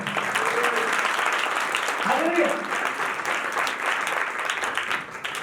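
A church audience claps through a Hindi-language sermon, a sustained crowd of hands clapping at a fairly loud, even level, with voices rising briefly over it.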